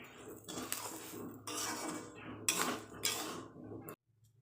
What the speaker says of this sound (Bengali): এটা আমি আর একটু নেড়ে চেড়ে নেব